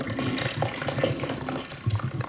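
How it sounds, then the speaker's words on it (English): A toilet flushing in the video game Resident Evil 7: a steady, close rush of churning water that runs the whole time, with no pauses and no voices. "flush the toilet here"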